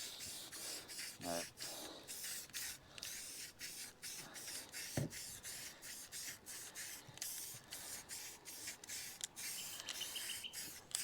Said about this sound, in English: I'm going to give this a spray with some primer.